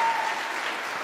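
Brief burst of audience applause at a religious debate gathering, even clapping that starts loud and settles slightly over about a second.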